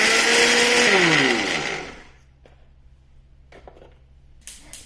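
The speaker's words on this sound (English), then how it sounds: "After peeling off the skin from the peanuts, I powder them together at once in a mixie jar" A mixie jar grinds peeled peanuts into powder, a loud high-pitched whirring motor that runs for about two seconds and then winds down, leaving near silence with a few faint clinks.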